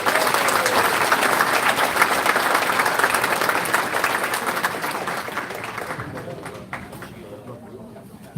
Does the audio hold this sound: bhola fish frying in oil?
no